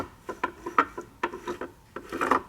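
A rebuilt Nissan 240SX R200 differential is turned by hand, giving a series of short scraping, rasping rubs as the pinion drags on the gear teeth, close and fairly quiet with uneven rhythm.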